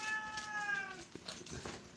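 A domestic cat lets out one clear, fairly close meow that fades within about a second, followed by faint indoor rustle.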